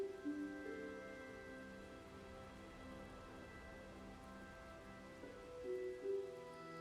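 Video game rain falls as a steady, faint hiss under soft sustained background tones, with no talking.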